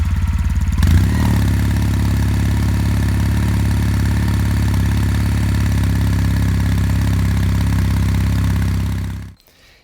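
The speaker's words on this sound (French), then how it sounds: "Et au démarrage, les deux flûtes ici, elles ont beaucoup plus de sympathique mélopée que l'ancien modèle." Kawasaki W800 parallel-twin engine idling through its two exhaust pipes: after a brief sputter at start-up it settles into a steady, even, low burble held close and loud, then cuts off abruptly near the end.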